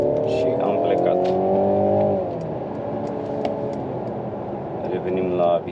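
A Mercedes C300 4matic with 258 hp pulls away and accelerates, its engine note rising through the revs with clear gear changes before settling into a steadier cruise, loud and close from inside the cabin.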